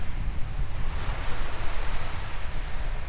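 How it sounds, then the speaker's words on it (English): Small whitecapped sea waves wash along Withernsea beach in a steady broadband surf rush, mixed with wind buffeting the microphone, continuous and fairly loud throughout with no talking. "They're white caps of little waves."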